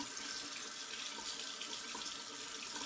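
A bathroom tap runs cold water for a rinse after a straight-razor shave, a steady hissing splash of water into the sink, close and continuous without breaks.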